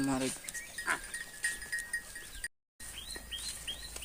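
A herd of goats driven out along a village path to graze in open scrubland, with scattered bleats, faint bell clinks and footsteps, and brief talk over them.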